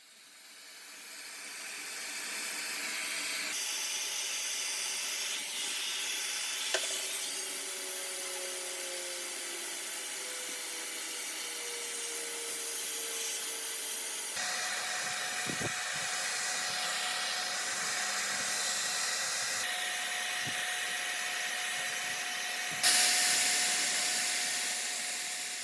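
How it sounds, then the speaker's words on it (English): A heat gun blows hot air steadily onto a battered Gunn & Moore willow cricket bat during repair, a continuous close hiss and whoosh with slight shifts in tone and a few small knocks. "We have now upgraded to a heat gun, which is a little bit more professional"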